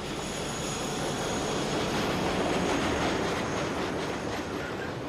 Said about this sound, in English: train is hauled by a Class 51 diesel-electric, an early 60s mixed traffic design